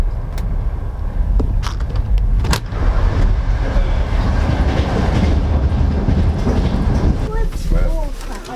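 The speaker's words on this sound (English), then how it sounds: "We're gonna get our train now back to Minsk." A passenger train ride back to Minsk, a loud continuous rumble of the carriage with rail clatter and a few sharp knocks, heard from inside.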